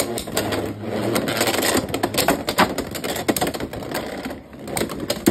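Beyblade spinning tops, Drigger S against another, clatter and grind in a stadium after launch, with dense rapid clicking and scraping hits continuing steadily and loud at close range.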